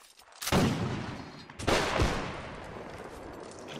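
Two loud musket volleys in the Napoleonic Wars mod of Mount and Blade Warband, each a sharp crack of massed gunfire trailing into a long echoing rumble, about a second apart.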